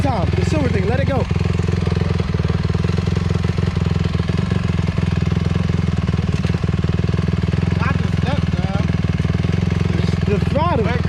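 A 250 dirt bike engine runs with a steady, loud mechanical chatter and throttle blips, heard close by as a first-time rider works the throttle, with voices talking over it.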